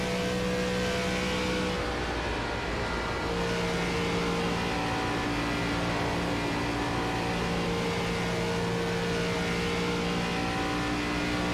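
An ARCA race car engine in the iRacing sim racing game drones steadily and loudly throughout, a continuous hum with slight shifts in pitch and no voices.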